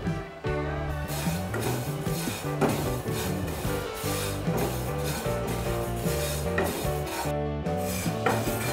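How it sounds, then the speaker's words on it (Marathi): Sesame seeds are stirred and scraped around a pan as they roast over a low gas flame for sweet til-jaggery laddus, a dense, continuous rasping and rustling that stays close and steady throughout. "आता हे सगळे तीळ आपण 2 मिनिटं म्हणजे तीळ चांगले फुलेपर्यंत मंद गॅसवर भाजून घेऊया"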